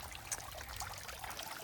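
Water from a rain barrel trickles steadily into a small garden fountain pond outdoors, a close, continuous soft splashing and bubbling with no talking.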